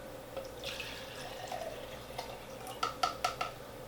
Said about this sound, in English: the first thing you're gonna add is a cup of water